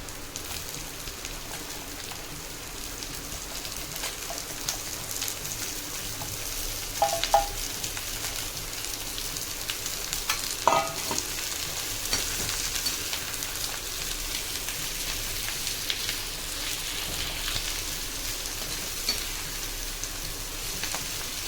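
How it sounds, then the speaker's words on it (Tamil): Ivy gourd (kovakkai) sautés in oil with a faint, steady, rain-like crackle throughout, with a few brief stirring knocks along the way. "கோவக்காயை எண்ணெயில் 2 நிமிஷம் நல்லா வணக்குங்க"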